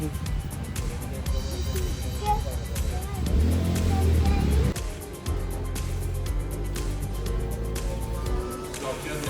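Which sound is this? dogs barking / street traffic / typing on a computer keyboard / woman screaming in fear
street traffic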